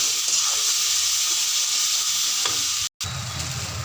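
Green banana peel paste sizzles and fries in a pan while being stirred, a continuous hissing crackle broken by a brief dropout near the end.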